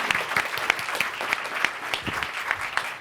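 A room of attendees at a talk or networking event claps together, a brisk, even round of applause with crisp individual claps popping through, fairly loud and sustained.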